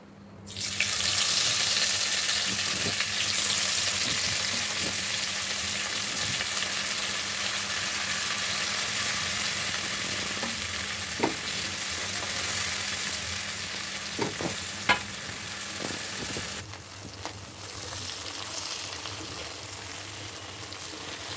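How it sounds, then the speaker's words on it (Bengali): Hilsa fish pieces coated with salt and turmeric fry in a pan with a steady, close, loud sizzle that lasts throughout, with occasional faint clicks and knocks and no voices. "এখন মাছগুলো ভেজে নেব"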